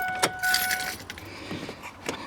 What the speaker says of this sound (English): Let me turn off the truck here.